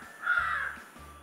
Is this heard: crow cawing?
yes